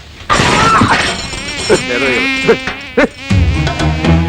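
Flies buzzing in a comedy scene: a steady, fairly loud insect drone runs through the whole stretch, with a few brief clicks and knocks breaking in.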